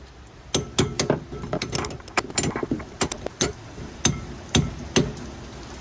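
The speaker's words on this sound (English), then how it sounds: "So now I'm going to tap in these locking clips on these screws." Metal locking clips are tapped onto brake screws on a DeLorean, a series of sharp, close metallic taps and clinks in irregular bursts against quiet background, no talking.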